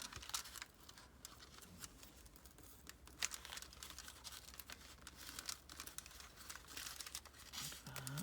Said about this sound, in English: We can just kind of just fold it down here.